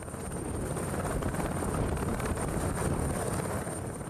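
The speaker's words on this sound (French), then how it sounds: "Le sifflement, la signature de la turbine." A French helicopter's turbine engine drones steadily and loudly, with a thin high turbine whistle running over the constant rotor rumble throughout.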